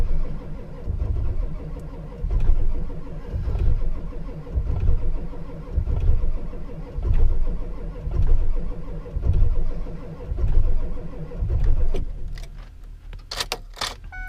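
A Ford 7.3 diesel truck engine cranks and fires roughly on a very cold start after sitting a month, loud rhythmic cranking pulses turning into an uneven labored idle, ending with a few bright mechanical clicks.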